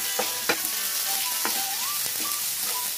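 Curry leaves and coconut fry in hot oil in a Kerala-style kitchen, giving a steady, loud broadband sizzle with a few sharp crackles and pops near the start, close and without talk.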